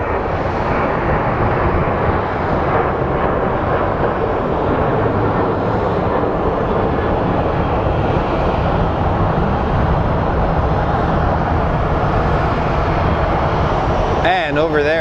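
An airliner bound for Las Vegas departs Phoenix Sky Harbor airport with a loud, continuous engine roar that fills the whole stretch, while people talk faintly beneath it.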